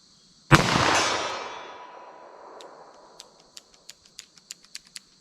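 A single loud gunshot from a big 10mm revolver loaded with Hornady Custom 180 grain rounds cracks and rings out in a long decaying echo, followed by a quick series of light metallic clinks.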